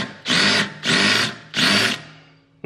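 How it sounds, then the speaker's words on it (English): A power drill bores a hole during a tear-down of a VW MK4 R32's brakes, running in three close, loud bursts of about half a second each, with short pauses between them. "drill a hole"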